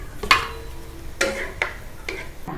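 Pork fat fries in a pan of hot oil for a Chinese-style dish, with sharp crackles and stirring scrapes coming in three or four distinct bursts over a low, steady sizzle, close by.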